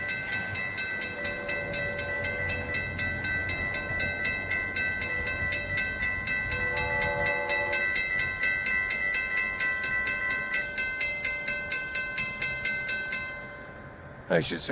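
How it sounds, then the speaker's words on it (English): A rock-hauling freight train rolls past with a steady, rhythmic clickety-clack of wheels over rail joints, sustained tonal ringing and rumbling underneath, fading near the end as a brief clatter closes it. "Hopefully I'll be back before this rock train leaves."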